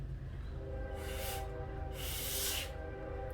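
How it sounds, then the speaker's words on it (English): A train passes near a beach home, its low steady rumble continuous underneath, with two bursts of broad hissing noise swelling over it; a faint, distant tone runs through the background. "You hear our train?"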